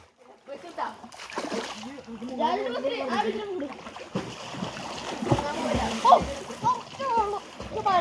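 Repeated splashing and sloshing in water, with children talking and shouting over it throughout.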